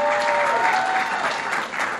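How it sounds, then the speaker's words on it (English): A crowd in New York at a presidential event for the My Brother's Keeper Alliance gives a thick, sustained round of applause, with a faint whistle or cheer mixed into the roar. "Give Darnell a big round of applause for that introduction"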